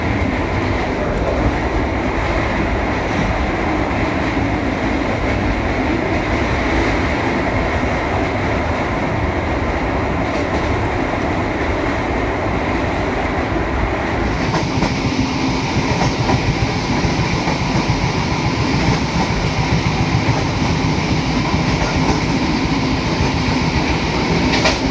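The KA Sritanjung passenger train, running from Lempuyangan to Ketapang, rolls along the rails with a continuous, loud rumble and rattling clatter heard from onboard, steady for the whole stretch and without talk.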